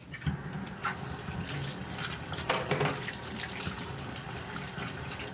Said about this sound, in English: Now wash out the sink.